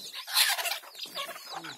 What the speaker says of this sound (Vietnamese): Đây là gà rừng lai đây